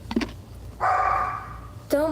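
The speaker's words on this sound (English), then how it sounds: "Sorry, those are my dogs." Several pet dogs bark and yip indoors, short sharp bursts near the start, a sustained whine-like bark in the middle and another close bark at the end, with a person talking over them.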